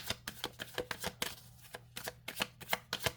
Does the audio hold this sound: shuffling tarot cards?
yes